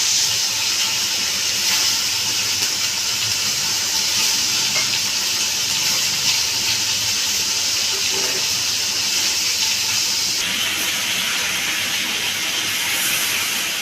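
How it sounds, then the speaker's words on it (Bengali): Pieces of bhola fish frying in oil, a loud, dense and constant hiss-sizzle that stays even throughout, up close with no talking. "বাকি মাছটা আমি এইভাবে ভেজে নেব"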